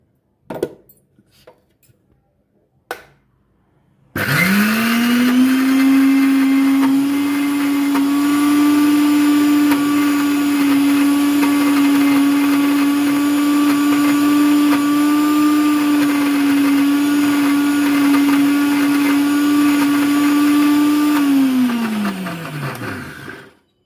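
Wet grinder churning soaked urad dal with rice into batter for vadas: a loud steady motor hum with grinding rumble begins after a few scattered clinks, runs evenly for about twenty seconds, then winds down as the machine stops.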